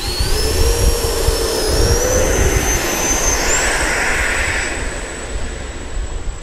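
An RC electric jet, an FMS Rafale or Freewing Eurofighter, powers up for takeoff with a loud, steady ducted-fan whine and broad rushing roar, its pitch climbing then holding high as it rotates.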